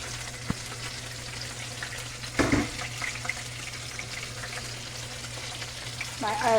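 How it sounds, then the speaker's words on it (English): Chicken curry in the Jamaican style frying in a pot as carrot is tossed in, with a steady sizzle, a sudden splashy burst near the middle and clinking spoon and pot sounds toward the end. "So I'm going to throw in the carrot."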